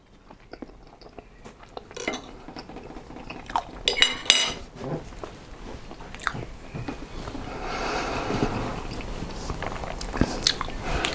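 A mouthful of Kamado-roasted sirloin with potato, mushy peas, onion and pepper being chewed close up, with wet crunching and squishy mastication, cutlery clinks early on, and steady chewing noise building through the second half.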